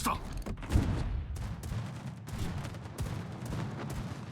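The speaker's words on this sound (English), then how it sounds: "we're just gonna harass him now with our AP shells" Warship main guns firing armor-piercing shells in the naval battle game World of Warships, heard as a rapid run of booming volleys and thuds over a continuous rumbling background, with a strong burst near the start.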